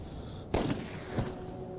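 A single gunshot cracks out sharply, a loud close impulsive bang with a brief decaying tail, followed by a fainter second thump, in a tense standoff scene.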